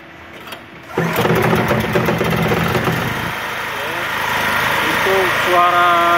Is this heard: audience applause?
no